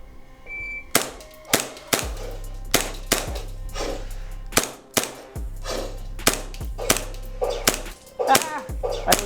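A Vorsk high-kappa gas blowback airsoft pistol loaded with green gas fires about a dozen sharp, snappy cracks at irregular intervals, each shot ringing with a brief metallic slide clack, fairly close and loud.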